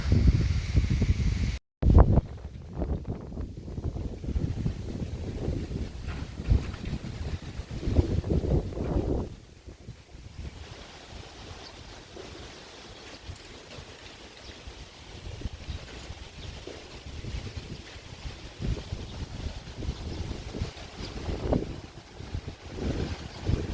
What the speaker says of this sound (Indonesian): Anginnya kencang di sini. Kencang banget anginnya.